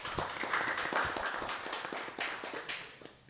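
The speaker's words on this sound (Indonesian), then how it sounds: "Tepuk tangan yang meriah untuk kita semuanya." Audience applause at a live event outside the Kominfo office on Jalan Agus Salim in Banyuwangi, a dense, steady wash of many hands clapping with scattered sharper claps, moderately loud and continuous throughout.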